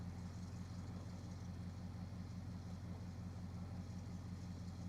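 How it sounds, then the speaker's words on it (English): A Dodge Charger crew cab car engine idles steadily with a low, rhythmic rumble, close and constant, with no talking. "it idles real good, dude. You guys hear that?"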